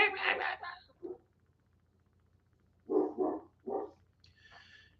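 A dog barks in two bursts, a loud cluster at the start followed by a single bark, then three more barks later on, fairly close and with no other sound in between.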